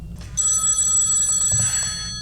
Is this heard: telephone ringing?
yes